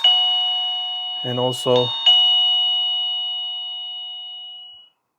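A TECKNET plug-in wireless self-powered cordless doorbell chime rings: a bright tone, then a second tone that rings out and slowly decays over several seconds. A voice speaks briefly between the tones.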